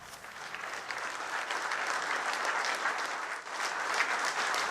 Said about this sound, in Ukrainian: самі себе привітали бурхливими оплесками